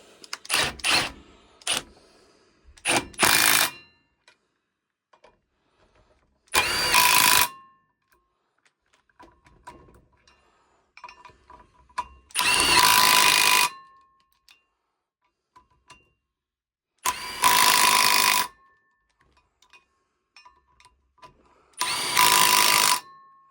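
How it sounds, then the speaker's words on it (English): Power tool running bolts in during a Land Rover Defender restoration, five separate loud bursts of roughly a second each, spaced by quiet pauses, with no talking. "And then whiz the bolts up."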